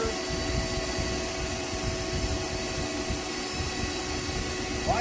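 A Dremel rotary tool fitted with a flame burr grinds into wood as a figure is carved, with a constant close high whine and gritty rasp that runs unbroken throughout.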